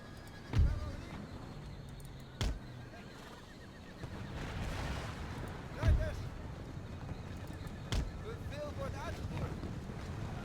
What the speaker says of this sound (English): And the cannon fire alone has knocked off that unit.